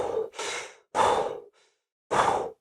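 Slow, audible breaths in and out, close and alone: four long airy breaths separated by short pauses, with no talking.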